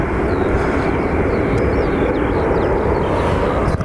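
An airplane's jet engines roar on a takeoff run at Dublin Airport, a loud, steady, broadband rumble that fills the whole stretch without letting up.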